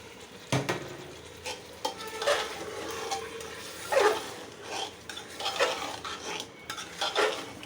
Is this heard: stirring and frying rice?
yes